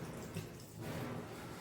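White aval, flattened rice, is washed by hand in a bowl of water: soft, faint sloshing and swishing, with gentle splashes over a short stretch.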